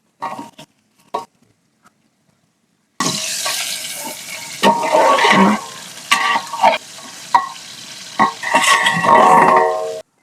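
Peas, capsicum, cauliflower and carrot stir-fry in a pan, with a few light clinks before a loud sizzle bursts in and keeps going, broken by repeated scraping stirs and clatter.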